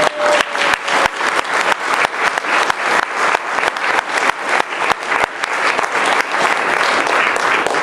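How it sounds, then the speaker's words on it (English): A large audience claps steadily for several seconds, a dense, loud wash of applause that stays even throughout. "Farnoosh, Malia, and Mario, let's really give them a round of applause."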